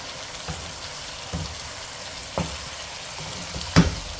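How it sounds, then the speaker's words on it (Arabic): Chicken sizzles with spices in a pan as it is stirred, a low, even frying hiss punctuated by occasional spoon scrapes and a sharper clank toward the end. "نقلب بقى كويس عشان تاخد من نكهه البهارات."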